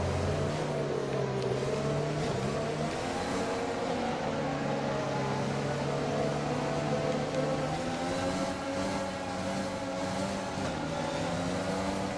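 F1 race cars accelerate at a restart in a Formula 1 racing video game at Zandvoort, engines droning and rising in pitch together in a continuous, loud roar with no voices.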